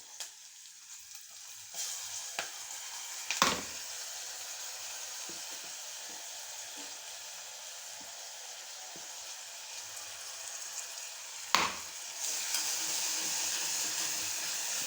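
Ground tomato poured into a hot pan for prawn masala curry, setting off a steady close sizzle and hiss with a couple of sharp clanks and stirring knocks, and no talking.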